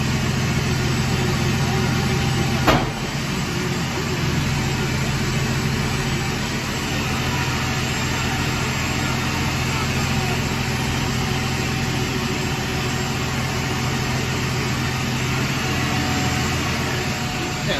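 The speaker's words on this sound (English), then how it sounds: "I'm just going to get the loader up into position here" A John Deere 6150M loader tractor with a coolant leak at its VGT actuator runs in a steady, continuous engine drone as it is moved into position, with a brief click near the start.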